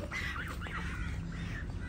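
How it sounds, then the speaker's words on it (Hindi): A recovered duck runs about, its nasal calls carrying in short rising bursts over steady low background rumble, fairly close and continuous throughout. "ये वाली डक थी, ये देखो भाग रही है"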